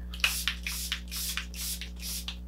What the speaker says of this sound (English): my favorite setting spray of all time, the Charlotte Tilbury Airbrush Flawless Setting Spray